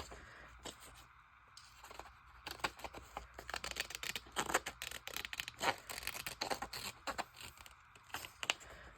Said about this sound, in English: I like my Tim Holtz scissors. I love the way it crunches.